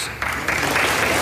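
Members of the US Congress give steady, full-room applause for Japanese Prime Minister Fumio Kishida's address, a dense wash of many hands clapping that swells slightly and holds without pause.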